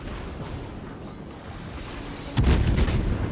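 Naval guns fire armor-piercing shells in the World of Warships video game; a quiet stretch gives way to a sudden loud burst of booming salvos near the end.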